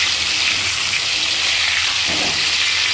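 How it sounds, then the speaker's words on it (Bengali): Winter melon (chal kumra) pieces frying in a pan, with a steady, dense sizzle and faint hiss continuing evenly throughout, close and moderately loud with no talking. "এইভাবে চাল কুমড়াগুলো আমি এইভাবে ভেজে নিচ্ছি লাল লাল করে"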